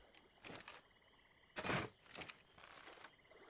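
Frog croaking in the survival video game Ark Survival Evolved, a few short bursts with one louder croak in the middle, faint against a quiet ambient background.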